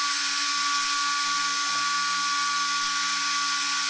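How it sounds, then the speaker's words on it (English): A Mueller hot tapping machine's power operator cuts into a pipe, giving a steady, continuous high mechanical whine with a constant drone beneath. It runs unbroken and fairly loud, with no voices. "Squeeze the handle of the power operator to make the cut."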